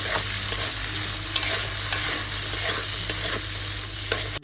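Beans and flat beans stir-fried for a winter vegetable chow mein, a dense continuous sizzle with regular light clinks and scrapes of a spatula tossing them in the pan, close up and without speech.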